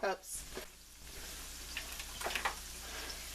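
Food frying in butter in a pan, a low steady sizzle with a few brief stirring scrapes and spatters, heard close and fairly faint with a short burst of voice at the start.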